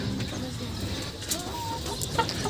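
Laying hens in a coop cluck and chatter in short, uneven bursts, fairly close, over a steady background murmur of the flock.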